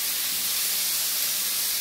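Vegetables hit a hot frying pan in which beef fillet was just seared, giving a loud, continuous hiss and sizzle with no break for under two seconds.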